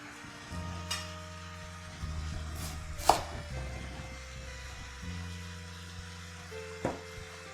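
A knife chops a cabbage into chunks on a cutting board, with a few sharp, separate cuts against a steady low hum, close and fairly quiet.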